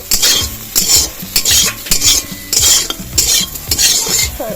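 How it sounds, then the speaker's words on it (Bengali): Soybean chunks frying in a pan for a curry, a close, loud run of rhythmic metal spatula scrapes and clanks, roughly two per second, over a continuous oily sizzle, with no voices. "এইদিকে তো সয়াবিনের তরকারির জন্য আমি সয়াবিনটা ভেজে দিচ্ছি।"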